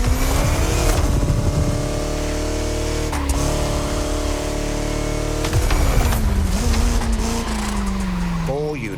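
A Bugatti car drives on French countryside roads in The Crew Motorfest, its engine droning steadily and shifting pitch as it accelerates and eases off, with a narrating voice over it throughout.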